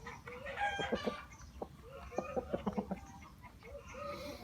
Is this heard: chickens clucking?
yes